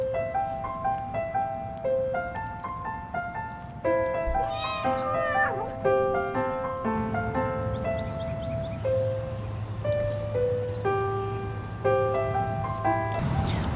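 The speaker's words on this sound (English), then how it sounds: "What a cute cat." A pet cat adopted from a Humane Society shelter gives a single wavering meow partway through, heard close but partly buried under continuous cheerful background music.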